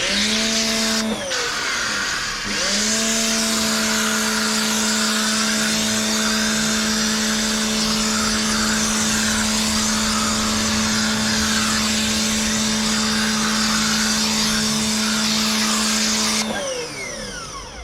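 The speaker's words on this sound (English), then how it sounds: "you can just continue using it as your jet wash nozzle" A Nilfisk pressure washer runs loudly with its jet wash nozzle spraying, a steady high hiss of water over a constant motor hum, briefly dipping near the start before running continuously and stopping at the end.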